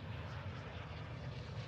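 A fixed-wing aircraft in the video game Warzone 2.0 gives a constant droning engine hum with a low rumble, heard steadily and alone without speech.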